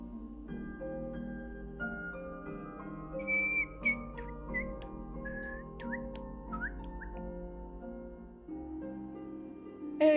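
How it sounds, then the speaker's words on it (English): A person whistles a wandering, tuneful melody of short rising and falling notes at close range, with a low steady hum running underneath and no talking. "I always love how my model reacts to me whistling."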